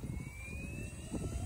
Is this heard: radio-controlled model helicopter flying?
yes